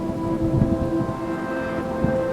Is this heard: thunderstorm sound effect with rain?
yes